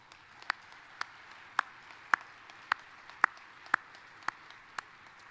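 Slow, evenly spaced claps at a spring commencement ceremony, about ten crisp hand claps in a steady rhythm, fairly faint against a quiet hall.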